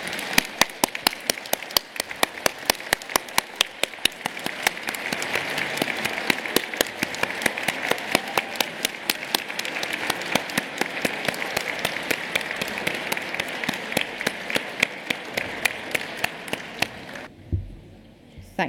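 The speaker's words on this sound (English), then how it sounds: "give them a big wave and a huge round of applause" Graduation ceremony crowd gives a long, huge round of applause, dense clapping with sharp individual claps standing out, building and holding steady for about seventeen seconds before stopping abruptly, followed by a voice.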